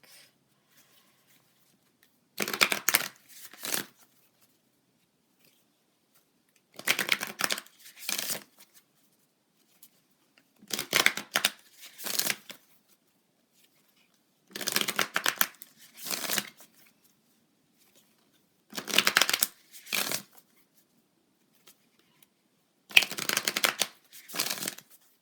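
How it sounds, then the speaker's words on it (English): Tarot cards from a Moon deck being shuffled in six separate crisp, riffling bursts spaced roughly four seconds apart, close and clear with near silence between them and no talking. "I'm going to pull a card from my Moon deck."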